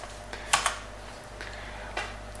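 A few sharp key clicks on a computer keyboard as a command is typed, with a short burst of quick taps followed by a couple of isolated strokes, near and fairly quiet in a still room.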